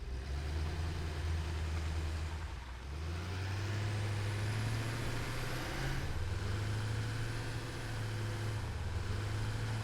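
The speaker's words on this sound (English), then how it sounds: "Let's hop in the tractor and head out there." A tractor engine drones steadily in the game Satisfactory, a low continuous hum that dips briefly and then climbs in pitch as it drives on, with no talking.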